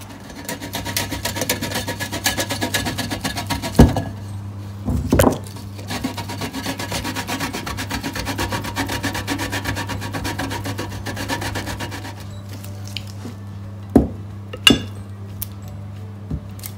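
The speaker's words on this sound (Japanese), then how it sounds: "でこの上にパルメザンチーズを削って振りかけます。" Parmesan cheese being grated by hand over a zucchini strudel in a heat-proof dish, a steady rasping scrape repeated for long stretches, with a few clinks of utensils and pauses near the end.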